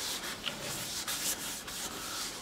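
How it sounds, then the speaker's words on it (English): Salad bowl oil being rubbed onto a birdseye maple bowl spinning on a woodturning lathe, a steady close hiss of cloth on wood with a few brief swells, no talk. "So I'm just gonna put a little salad bowl oil."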